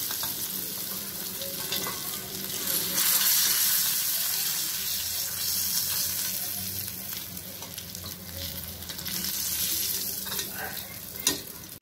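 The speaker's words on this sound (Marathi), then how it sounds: "अशाच पद्धतीने मी माझे बाकीचे जे पापलेटचे पीसेस आहेत ते तळून घेते." Pomfret fish pieces fry in oil with a constant crackling sizzle that swells and eases, broken by occasional light clinks and scrapes of turning.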